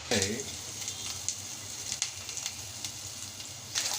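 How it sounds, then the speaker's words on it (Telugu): Masala frying in oil for a paneer curry, a close, steady sizzle with occasional stirring scrapes running throughout. "మసాలా మొత్తం వేయించాలి"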